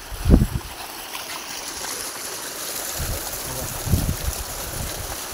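Water pumped by two 12.5 motors gushes out of a pipeline as a steady, broad rushing flow. A couple of brief low thumps stand out over the continuous outdoor wash.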